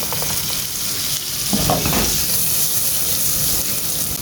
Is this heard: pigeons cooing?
no